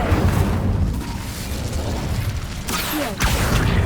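Incendio fire spell cast in the Hogwarts Legacy video game, a dense, roaring burst of flame sustained over several seconds, loud and close with whooshing flares and a sharp flare near the end.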